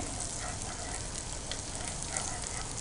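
Garlic frying in oil in a pan for a spicy tomato soup, a steady close hiss and sizzle that runs unbroken with no talk over it.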